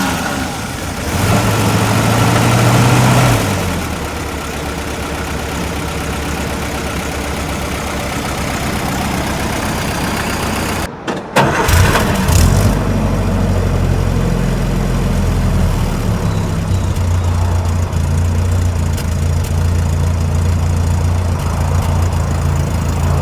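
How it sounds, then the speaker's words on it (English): A 1951 Willys CJ-3A jeep engine cranks and catches, then settles into a steady, throaty idle, briefly cutting out and resuming with a lower, rumbling exhaust tone. "Let's check out an engine startup clip with both a motor and exhaust view."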